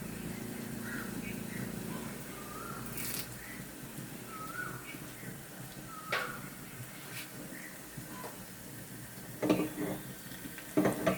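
Water drains from a cooking pot in a home kitchen, a faint, steady splashing pour that runs for several seconds, with a few louder spatters near the end.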